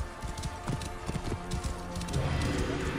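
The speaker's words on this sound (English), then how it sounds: "This must be Mered's horse." Horse hooves clip-clop steadily along in the Assassin's Creed Origins video game, a close, even rhythm of hoof strikes with a low rumble of game ambience underneath.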